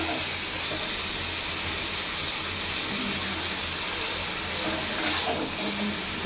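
Vegetable stalks sauté in a pan while a fish curry is being cooked, giving a soft continuous sizzle with steady hiss, fairly quiet and close, and no talking.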